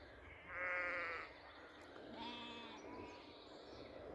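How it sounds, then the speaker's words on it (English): Sheep bleat outdoors on a farm, with one clear, fairly close bleat followed by a fainter second call, set against a steady low background rumble. "these sheep are lucky."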